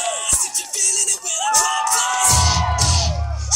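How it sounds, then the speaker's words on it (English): An audience at a martial arts performance at a fair screams and cheers loudly, with children shouting and whoops rising into a sustained roar. "I want you to scream loud"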